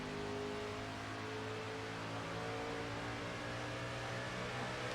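A race car in the video game NASCAR Racing 2003 holds a steady, droning engine note throughout, fairly quiet and without talk.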